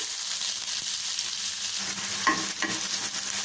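Chopped onions and cumin seeds, with mustard seeds already popping, fry in hot oil for aloo bonda filling, giving a steady close sizzle with a couple of brief scraping stirs midway.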